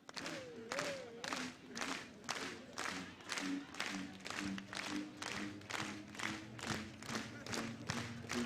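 Rowing fans in a championship grandstand clap together in a steady, slow rhythmic beat, the claps evenly spaced and loud across the whole stretch, with a faint voice leading them.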